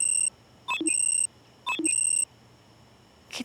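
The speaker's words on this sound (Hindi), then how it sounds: "कितने अलार्म लगाए हैं इसने सुबह उठ के क्लास आने के लिए।" A morning wake-up alarm beeps in two repeated bursts of electronic tones, each a high sustained beep broken by short lower blips, loud and close in an otherwise quiet room.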